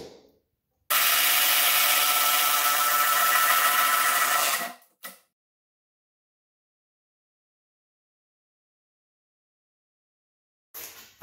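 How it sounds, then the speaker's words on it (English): A drill whines loudly for about four seconds as it bores into wood for a horizontal Langstroth beehive, then stops abruptly, followed by silence and a brief noise at the end. "And then you drill a hole."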